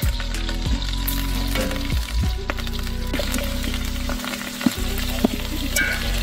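Tomatoes tumble into a sizzling pan over an outdoor cooking fire, giving a loud continuous fry with scrapes and clatter of utensils throughout.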